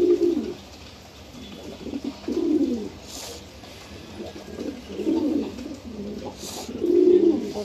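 Pigeons cooing in soft, repeated phrases at a steady rhythm, several coos at close range in a quiet indoor coop, with small rustles between calls.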